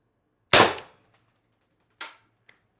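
A TR50 Torpedo CO2 air gun fires a 12.7mm ball bearing in one sharp, loud crack; about a second and a half later a softer second impact follows, then a tiny tick, with no talking.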